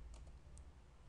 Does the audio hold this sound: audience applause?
no